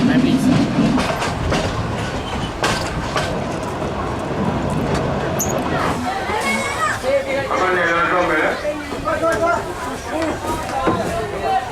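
A train rattles along its rails in Myanmar near Yangon, with a steady clattering rumble, while people talk nearby over the continuous rolling noise of the carriage.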